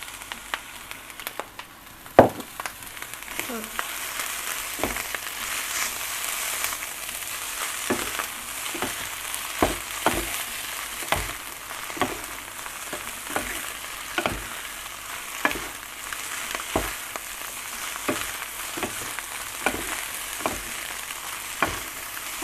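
Yellow noodles stir-fried with chicken sausage in a pan, a steady sizzle under repeated scraping clacks of a spatula at an irregular rhythm, close and alone without voices.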